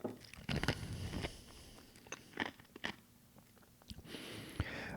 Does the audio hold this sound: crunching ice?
yes